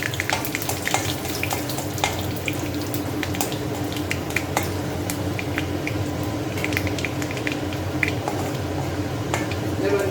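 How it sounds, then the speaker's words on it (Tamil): Mustard seeds spluttering and popping in hot oil in a home kitchen pan, a continuous crackling sizzle with scattered sharp pops, close and steady throughout. "கடுகு பொரியுது, இந்த மாதிரி பொரியணும்."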